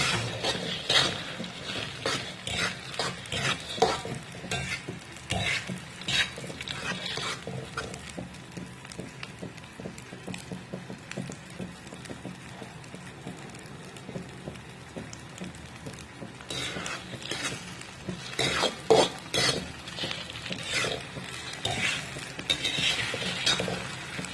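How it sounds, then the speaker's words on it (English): Potatoes and eggs fry in olive oil in a pan while being stirred, giving a steady crackling sizzle broken by scattered clinks and scrapes of a utensil against the pan. "Stirring it because I don't want it to get burned."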